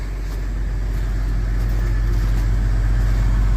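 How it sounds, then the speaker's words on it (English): A truck pulls up to an oat bin where a Brant 7500 HP grain auger is set up, its engine a steady, close, loud low rumble that grows slightly over a few seconds with no voices. "because there's a truck coming."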